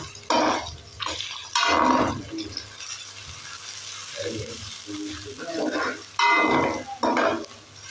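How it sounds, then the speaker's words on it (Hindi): Food fries in a pan over high heat in a home kitchen. Sizzling comes in irregular bursts with stirring and scraping. Quiet gaps fall between the bursts. "इसको अच्छे से फ्राई करना है"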